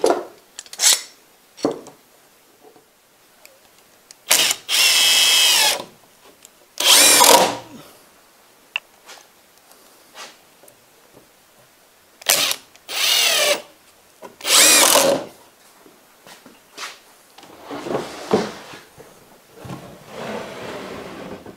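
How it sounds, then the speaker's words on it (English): A drill drives screws into a table saw crosscut sled, in repeated short, loud whirring bursts separated by pauses, with clamp handling and clattering between them. "Now, I can just pull it off the end of my outfeed table and clamp it and screw it."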